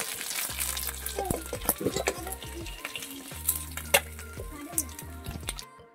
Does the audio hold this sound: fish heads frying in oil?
yes